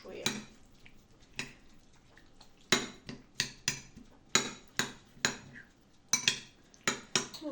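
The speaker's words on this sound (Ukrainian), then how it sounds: "І перемішуємо." Tomato and onion salad tossed with unrefined oil in a bowl, giving a series of sharp utensil clinks and scrapes against the dish at an uneven rhythm, close and fairly loud.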